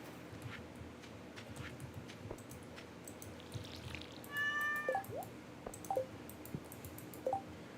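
Cat meowing in Stardew Valley, several short meows at intervals, one longer drawn-out call then quicker chirpy ones, over quiet game ambience with soft dripping water sounds.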